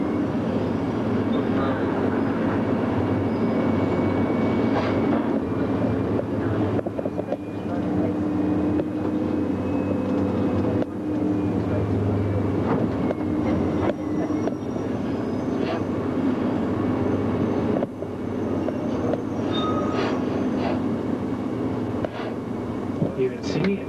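The Sydney monorail at Darling Harbour runs along its small loop of track, giving a steady, continuous rumbling hum with a faint whine that holds for the whole stretch.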